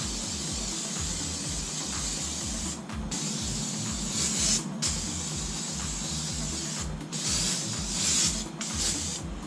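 Brake cleaner sprayed onto a motorcycle's single-sided swingarm rear axle: a steady, close hiss in repeated bursts with brief pauses, over a low pulsing rumble, and no talking.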